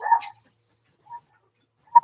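A white husky gives a short bark and whimper up front, then two brief yips follow after pauses, close and fairly clear against a silent background.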